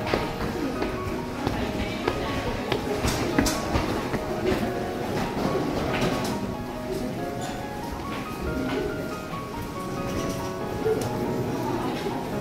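Steady rumble and rattle of a Japanese local train running, heard from inside the carriage, with faint clicks and clacks throughout.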